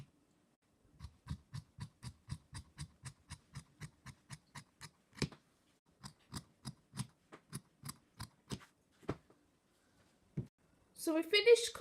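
Scissors cut fabric for a long gown in a rapid, even series of crisp snips, pausing briefly before resuming, close and fairly quiet, with a louder clatter at the very end.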